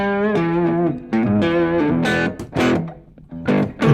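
Electric guitar played through a Strymon drive pedal set for a raspy tweed Deluxe style distortion, loud chords and notes ringing with a gritty, saturated edge, heard alone without talk.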